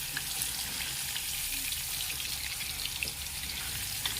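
Paneer pieces frying in a wok over a medium gas flame, a constant soft hiss of oil with faint crackles and spits, close and even throughout.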